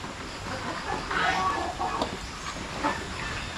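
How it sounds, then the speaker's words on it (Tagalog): Chickens and roosters kept in a pig pen, a few soft clucks and short calls at close range over a quiet farmyard background. "May mga manok tayo dito"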